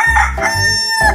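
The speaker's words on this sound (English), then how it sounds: "Chicken." A chicken in an animal video game, a short burst of loud clucking and crowing calls close up, with nobody speaking.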